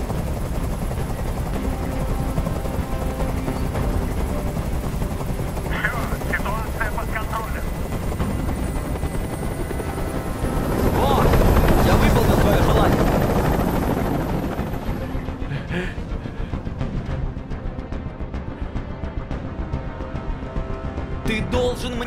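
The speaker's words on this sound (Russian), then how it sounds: "Прикажи им, чтобы вертолет убрался!" A helicopter hovers steadily overhead in the video game Detroit: Become Human, a continuous loud rotor drone that swells in the middle, with voices speaking over it.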